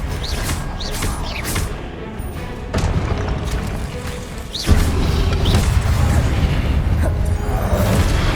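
Spell explosions from the Confringo fire curse in Hogwarts Legacy, a run of loud booming blasts and crashes over dense game ambience, with a heavier impact landing midway and the din staying thick to the end.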